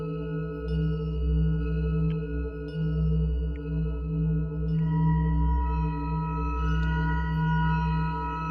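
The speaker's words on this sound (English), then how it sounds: "There's basically like a reverb, special one." A sustained 432 Hz drone synth tone through a special reverb, with layered steady harmonics and a washy, reverberant tail, occasional brief clicks and pitch shifts, continuous and fairly loud with no talking.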